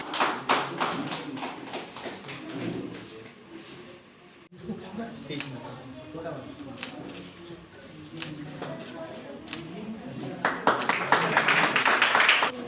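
A crowd claps at the grand opening of a dance and acting academy, starting as scattered taps under a man's speech and swelling into denser, louder applause near the end.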